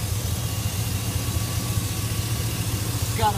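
A 2000 Chevy 2500 4x4 single-cab pickup with a 6.0 Vortec V8 idles steadily, a low, even rumble filling the clip at close range with a faint brief chirp near the end.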